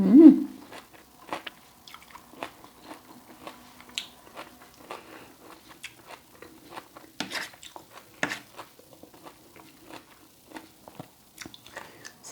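Someone eats a crunchy Thai pounded bean salad made with sabai nang beans, with close, irregular bites and crunches separated by short pauses of wet chewing. A brief vocal sound comes at the start.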